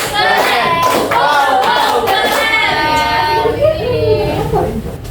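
A primary-school class claps out a rhythmic patterned cheer in unison, loud and close, mixed with children's chanting voices.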